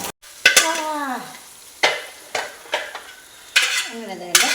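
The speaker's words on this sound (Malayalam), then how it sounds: "കടുക് ഇട്ടു, കരിയാപ്പിലത് കരിയാപ്പില ഇട്ടു." Mustard seeds, fenugreek and curry leaves sizzling in hot oil in an uruli, a steady frying hiss broken by repeated sharp metallic scrapes and clanks of a spoon stirring against the vessel.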